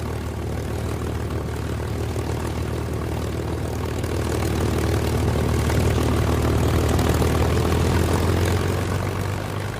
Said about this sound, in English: The planes he was referring to were Mustangs.